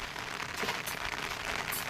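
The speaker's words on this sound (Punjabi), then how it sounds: "ਮੀਂਹ ਵੀ ਆ ਗਿਆ بارش ਸਟਾਰਟ ਹੋ ਗਈ ਹੈ" Soft, even patter of rain falling on a surface, a steady hiss with scattered drops, fairly faint and uninterrupted.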